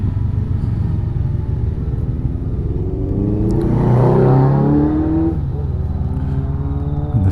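Honda CB500X motorcycle climbing the Stelvio Pass, its engine droning loud and steady, with rising revs swelling midway and a constant low rumble throughout.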